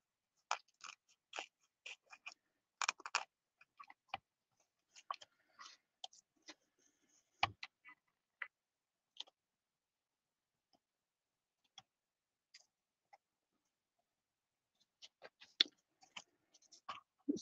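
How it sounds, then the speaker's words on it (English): Scissors trimming playing cards make sparse, soft, dry snips and clicks in irregular bursts, quiet and close in an otherwise silent room. "I'm using scissors now."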